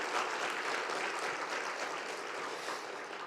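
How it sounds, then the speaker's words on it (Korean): A church congregation applauds after a pastor's talk, a dense wash of clapping from many hands that holds steady and fades slightly toward the end. "우리 한번 목사님께 다시 한번 감사의 박수를 드리겠습니다"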